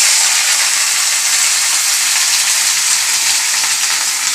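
Beans and potatoes fry in hot tempering oil in a pan, giving a loud, steady, close sizzle with crackling that holds without a break and no voices.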